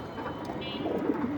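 A pair of aluminium pigeons coo on a rooftop, soft rolling coos rising near the end over a quiet background murmur.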